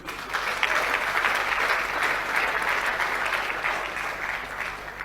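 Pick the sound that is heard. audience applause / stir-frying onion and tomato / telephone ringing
audience applause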